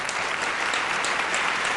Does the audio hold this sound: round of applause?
yes